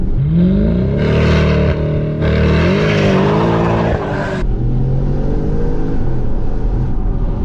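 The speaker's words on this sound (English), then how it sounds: "Foot hard down on the brake. Now accelerate hard down all the way." A 520bhp Audi S7 launches hard, its engine roaring loud and close as it climbs through the gears with brief shift breaks, then settling into a steady high-speed drone.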